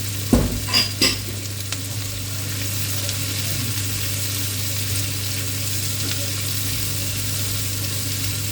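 Vegetables sizzle steadily in a hot pan while being stir-fried for paella, with a few quick clattering stirs of a utensil at the start.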